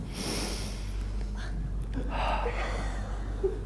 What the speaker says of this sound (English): Can you hear her breath through the microphone?